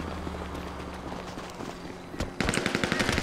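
Video game gunfire during a freeway shootout: scattered shots at first, then a dense, loud burst of rapid automatic fire in the last second, with no talk.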